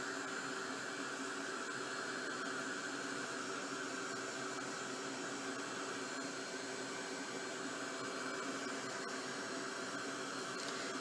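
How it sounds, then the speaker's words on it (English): A handheld heat gun blows hot air over craft work, a constant loud whooshing roar that holds without pause throughout, close to the microphone and with no talk. "And again, heat, you've got a heat gun."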